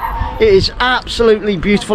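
A dog barks and yips nearby during an outdoor walk through the old walled town of Mdina, Malta. Short, high, excited barks are mixed in with someone talking over them.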